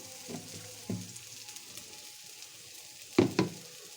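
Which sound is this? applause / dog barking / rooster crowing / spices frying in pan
spices frying in pan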